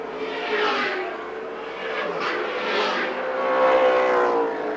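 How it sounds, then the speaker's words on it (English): Holden Torana touring race cars at the Amaroo Park circuit in 1979, heard as a steady engine drone that swells and fades as the cars pass, fairly distant and without talk. "There's the race leader, Bobby Morris, coming into Hodgson corner, now onto the straightaway"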